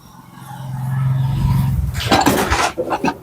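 Dishes and plates being handled and clattered together in a home in a relocation site, a low hum giving way to a burst of clinks and knocks near the microphone, no speech.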